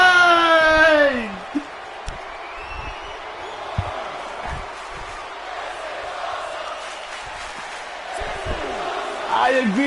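A video-game wrestling crowd in Lucha Libre Pro 2K19 roars steadily through a match, a broad sustained cheer with occasional thuds, while a voice talks over it.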